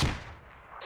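A frag grenade detonates in the tactical shooter Squad, a single sharp blast at the start that quickly decays into a fading rumble, heard at moderate distance without talk.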